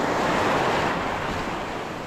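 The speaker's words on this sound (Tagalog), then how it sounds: "lakas ng alon naman." Heavy surf roars continuously at a shore in Palawan, a loud broadband wash of crashing ocean waves with no pauses, slowly easing slightly toward the end.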